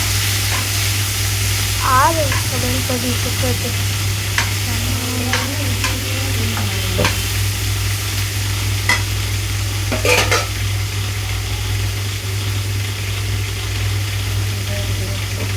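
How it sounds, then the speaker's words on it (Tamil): Tomatoes sautéing with ginger garlic paste in a pan give a steady soft sizzle with occasional stirring scrapes, while a voice speaks briefly early on over a constant low hum. "சேர்த்து லைட்டாக வதக்கிக்கலாம்."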